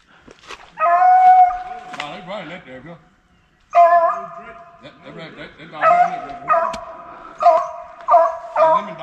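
Hunting dogs bay and howl in a Mississippi woods rabbit hunt, with repeated drawn-out, overlapping cries in bursts and a short pause, while someone talks now and then.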